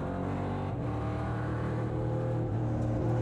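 Onboard roar of a 5.7-litre V8 race car engine during a race, loud and continuous with a steady pitch and a brief dip as the driver shifts.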